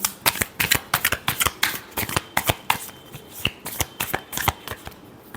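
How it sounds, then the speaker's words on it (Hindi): A deck of tarot cards is shuffled by hand in a quick, steady run of crisp riffling bursts, close and clear with no voices. "last shuffle"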